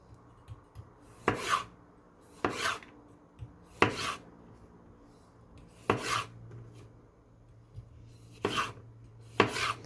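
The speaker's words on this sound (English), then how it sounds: "Got some English cucumber, and we're just going to do a diagonal cut." An English cucumber sliced diagonally with a knife on a cutting board, six crisp separate chops spaced about a second or two apart, close and clear with no voices.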